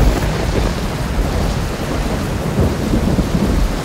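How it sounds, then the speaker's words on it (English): A thunderstorm with heavy rain pouring steadily near Lower Tahquamenon Falls, a dense continuous roar of rainfall with low rumbling thunder swelling through, loud and close with no voices. "It's raining!"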